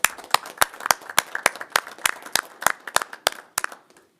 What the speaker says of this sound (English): would you join me in a short applause for the division?